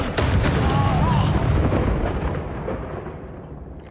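A burst of spell explosions in Hogwarts Legacy, a loud rumbling boom that swells and then decays over a few seconds, with a brief crackle at the end and no talking.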